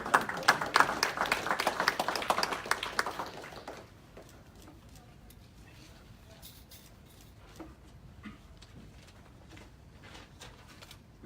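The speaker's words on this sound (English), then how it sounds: "Let's give a round of applause" Audience applause at a donation announcement for victims' families, a short loud burst of clapping for about four seconds that stops abruptly, followed by quiet room sound with faint scattered taps.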